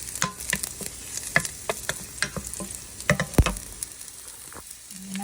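Garlic sautéing in a hot pan, a soft steady sizzle broken by irregular clicks and scrapes of stirring, close and fairly quiet with no voices.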